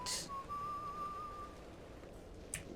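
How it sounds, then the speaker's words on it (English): Whistling from the video game Bioshock Infinite: Burial at Sea, one sustained whistled tone lasting over a second, moderately quiet over a steady game background hum, with a brief faint noise burst near the end. "whistling"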